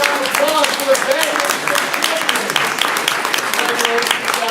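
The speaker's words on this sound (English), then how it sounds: "one last round of applause for the band" A high school board of education meeting at Stevenson High School gives the band a round of applause, a steady clapping that runs under a speaking voice throughout.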